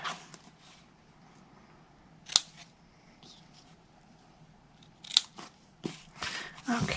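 Paper being trimmed for a two-flap Valentine craft box, with two sharp crisp snips of the blades separated by quiet stretches, plus light paper rustling and handling noises close by.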